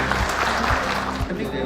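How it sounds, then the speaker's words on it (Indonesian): A crowd applauds for the APRSI Jambi regional association during a speech at an event in Jambi, with a brief burst of clapping, a few louder claps and some voices mixed in. "Tepuk tangan untuk APRSI Jambi."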